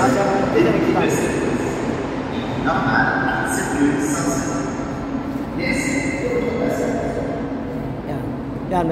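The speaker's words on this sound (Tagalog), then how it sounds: "Ayan, may dumating ng tren." A Montreal metro train rumbles into a station with rising whines and brake squeals over a steady roar, while a voice talks nearby.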